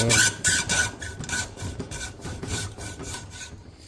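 A hand saw cuts through a carbon fiber MTB handlebar, Roval Control cockpit, in quick rhythmic rasping strokes, close and fairly loud, trailing off at the end.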